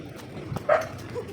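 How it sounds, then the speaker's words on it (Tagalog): A single short dog bark rings out at a moderate distance, followed by a fainter yelp, over quiet outdoor background. "daming aso dito"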